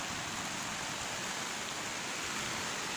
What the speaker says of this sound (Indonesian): Situasi sekarang masih hujan ya.